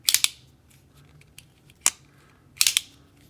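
Stan Wilson Non-Flipper Flipper pocket knife with zirconium and mokuti, its blade snapping open and shut in crisp, close metallic clicks, three sharp bursts spaced over a few seconds against a quiet background.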